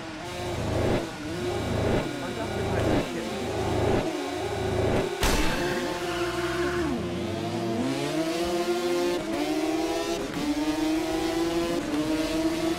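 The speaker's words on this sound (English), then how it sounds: "This bike sounds shit." A motorbike engine races in an Isle of Man TT game, loud and close, climbing through repeated gear changes with sharp shift breaks, then revving up and down steadily.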